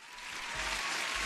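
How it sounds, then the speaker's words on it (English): An applause sound effect plays during a livestream of futures trading, a dense, steady burst of crowd clapping that stays even and fairly loud from start to finish. "There's your applause."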